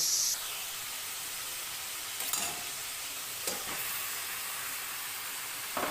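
Garden greens go into a pan of frying spice paste, giving a steady, close sizzle and hiss with a couple of brief stirring scrapes, no talk.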